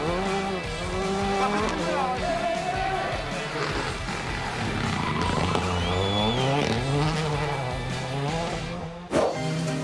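Rally car engines roar and rev continuously at close range on a special stage of the 2019 Rallye du Rouergue, pitch rising and falling as cars speed past, with a sharp knock near the end.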